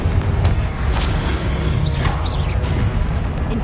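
Confringo fire-spell blast in the Hogwarts Legacy video game, a loud booming explosion with crashing debris that rolls on through the whole stretch, with brief whooshing spell effects over the rumble.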